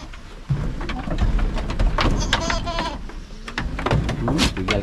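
Goats on a farm bleat loudly several times in quick succession, calling out over a rumbling, rain-like background wash.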